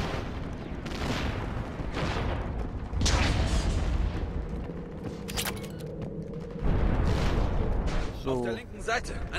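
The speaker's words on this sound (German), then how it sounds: "Komm, werf da eine Granate drauf." A grenade blast booms in a Mass Effect 3 fight on Tuchanka, with heavy rumbling explosions and gunfire layered under German-speaking voices.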